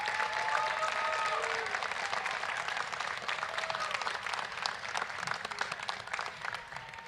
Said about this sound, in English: Let's give our Red Cap ambassadors and all the survivors here today a big round of applause.